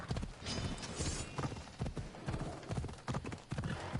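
Rhythmic clip-clop of a horse trotting on hard ground in Assassin's Creed Odyssey, the hoofbeats steady and close, with occasional snorts and a faint whinny mixed into the game's ambient sound.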